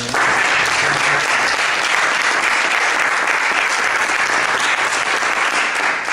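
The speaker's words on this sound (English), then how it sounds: "let's give Matt a round of applause for that" A local group meeting crowd gives a guest speaker a round of applause, a loud, sustained and dense clapping that stays level for several seconds before easing slightly at the end.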